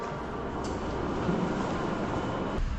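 A train rumbles steadily at close range at a station in Japan, a continuous loud low roar of wheels and engine with faint clanking, with no voices over it.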